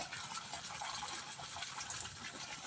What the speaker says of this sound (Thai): นี่ครับน้ำไหลเห็นไหมครับนี่ เป็นน้ำแบบระบบแบบใส่แบบธรรมชาติเลย น้ำไหลดีขนาดเลย